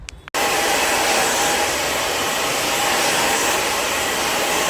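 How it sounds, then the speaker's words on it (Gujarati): A blow dryer switches on and runs steadily, drying hair with a loud, continuous, close whoosh that holds its level throughout, with no talking. "ગાઈઝ હવે મારા બ્લો ડ્રાયર કમ્પ્લીટ થઈ ગયા છે"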